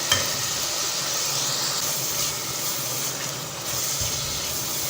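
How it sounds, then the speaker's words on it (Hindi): Tomatoes with chili masala fry in a pan, giving a loud, continuous hissing sizzle with faint stirring underneath. "तो इसको थोड़ा सा भूनेंगे।"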